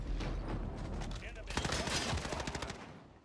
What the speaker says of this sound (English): Two people shooting me.